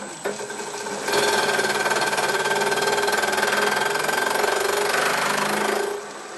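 Steady mechanical buzz of a machine cutting metal on a Jaguar XJ13 SOHC bellhousing, throwing off swarf. It runs loud and continuous for about five seconds, then winds down, with no talking.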